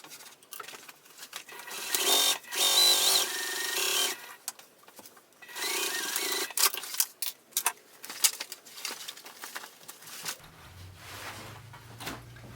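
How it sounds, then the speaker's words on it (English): A domestic sewing machine stitches a curve on a heavy tote bag in short, close whirring runs with pauses between them while the fabric is repositioned. "I'm going to base this in place and sew that curve around"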